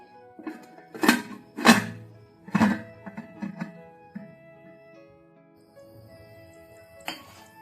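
A lid is placed on a cooking pot: several hollow metallic clanks ring out close by, then fade into a quiet hum, with a final lighter clink near the end.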